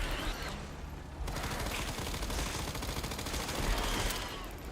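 Rapid bursts of video game gunfire crackle continuously with a dense, rattling rhythm, fairly faint and without talk.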